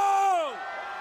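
Crowd of teenagers at an outdoor political rally in Gwangju roaring and shouting together, a loud sustained cheer with a prominent falling pitch sweep from one voice or whistle before the crowd noise settles into a steadier roar.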